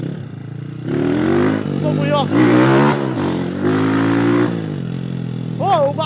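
A Honda Titan 160 motorcycle with an 8mm injection kit and a slipping original clutch revs up and down in rising and falling bursts, close by, with someone talking excitedly over the engine.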